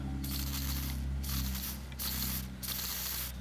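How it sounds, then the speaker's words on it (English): A nearly empty can of weld-through primer spits and hisses in several uneven bursts over a steady low hum, producing a sputtering stream rather than a fine mist. "Just sprays a stream, a mess."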